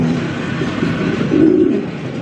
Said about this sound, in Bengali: এখানে রয়েছে আরও একজন রেসার কবুতর